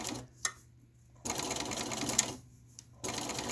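A sewing machine stitching fabric at a slow speed along a soft curve, running in short bursts with brief pauses between them, close and fairly quiet.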